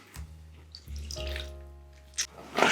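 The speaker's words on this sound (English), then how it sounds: "if I pour it over my hand like that, the pips will stay in my hand and the juice falls through my fingers" Sicilian lemon juice poured over a hand and falling through the fingers into tahini dressing, a faint close trickle and a few soft drips in a quiet kitchen.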